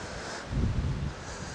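Wind gusts across the microphone on a riverbank path along the Ancholme at Bishopbridge, a soft rushing buffet that swells briefly in the middle, with no voices.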